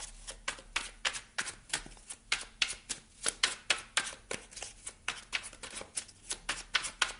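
Oracle cards are shuffled by hand, giving a brisk rhythmic run of crisp papery riffles and slaps. Roughly two dozen sharp bursts come at a fairly even pace, close up and with no voices.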